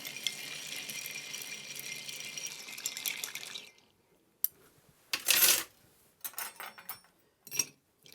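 Ice stirred in a mixing glass for a Kentucky Colonel cocktail: a few seconds of close, rapid clinking and rattling of cubes against glass, then silence broken by separate sharp clinks and small knocks.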